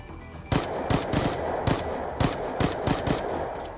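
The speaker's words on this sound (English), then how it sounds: "I actually don't know if you can shoot through this." Rapid gunfire in a video game, weapons shooting at a wall on the Slums map, with sharp repeated shots in short bursts loud and close, no talk over it.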